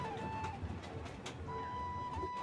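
Pet pigeons coo softly indoors in low, faint murmurs under a steady background hum.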